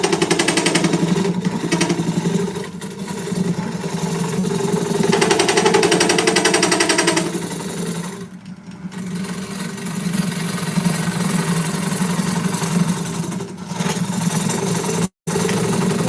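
Wood lathe hollowing the center of a bowl with a carbide tool, a steady loud grinding whir with rough cutting noise running throughout, a brief dip midway and a short break near the end.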